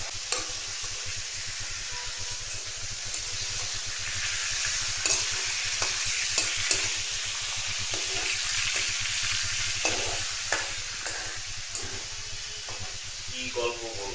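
Fish frying in a pan gives a steady, dense sizzle throughout, with small scraping and stirring clicks scattered over the constant hiss.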